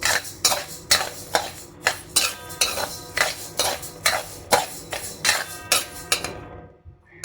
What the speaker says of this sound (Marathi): प्रथम आपण बाजरी भाजून घेऊया.